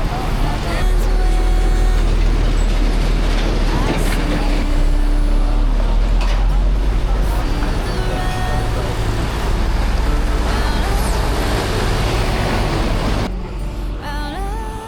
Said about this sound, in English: the trailers and big trucks muscle